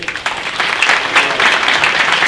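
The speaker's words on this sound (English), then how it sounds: "let's give them a round of applause" Brief, dense round of applause from attendees at a city council meeting, close and fairly loud, steady clapping with no speech over it.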